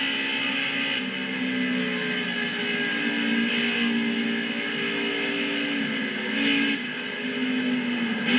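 A race car in NASCAR Heat 5 idles and rolls along pit road, a steady low engine hum held at constant pitch with brief surges, fairly close and alone.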